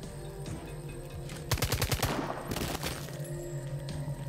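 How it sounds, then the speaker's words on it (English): Automatic gunfire in the tactical video game Jagged Alliance: Rage. After a quiet stretch comes a sharp, rapid burst of shots, then a second shorter volley, over faint ambient game sound. "Gunfire!"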